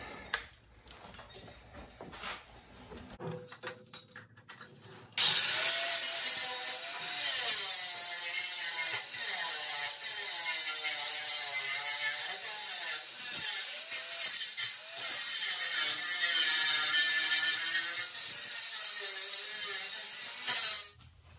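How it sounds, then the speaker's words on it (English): Flap wheel grinding down rusted, damaged metal in a home workshop, a loud continuous abrasive whine with shifting pitch that starts abruptly after a few seconds of quieter handling noise and runs steadily to the end. "I got in there with a flappy wheel, ground down a lot of the bad stuff."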